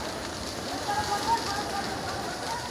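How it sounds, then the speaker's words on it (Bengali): A fire at a petrol pump, where flames spread into the treetops, gives a dense rushing crackle like heavy rain, heard steadily with people shouting nearby. "আগুন ফুটছে রে"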